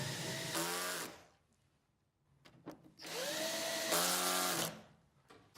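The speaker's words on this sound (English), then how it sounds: "I recommend to tighten the screws in the center first." A power screwdriver whirs in two sustained bursts with a rising whine, driving screws into the cover of a Sunny Boy Storage inverter, with a few short clicks and taps in the quieter gap between them.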